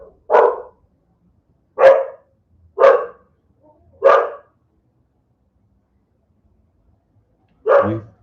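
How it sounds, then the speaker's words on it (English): A dog barks loudly and close by, four sharp single barks spaced about a second apart, then a pause and a final deeper bark, with no talking around them. "I need to let Shiva bark for a minute here"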